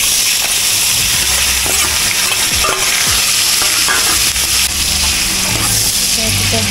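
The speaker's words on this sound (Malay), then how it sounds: "Kita goreng dulu bawang." Onions for sambal sizzle and crackle loudly in hot oil with a steady hiss, stirred now and then, the frying continuous throughout.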